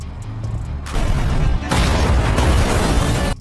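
In a scene from the 2023 action film The White Storm 3, a bomb set to stop a drug truck goes off in heavy, loud booming bursts, with a second blast following the first.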